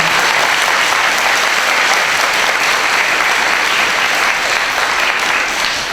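Audience applause congratulating students at a school gathering at Sandown North, loud and sustained clapping from a full room without pause.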